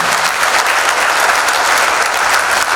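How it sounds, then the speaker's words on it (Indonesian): Loud, dense applause from a large crowd, continuous and steady for the whole stretch. "Tepuk tangan dong sekali lagi"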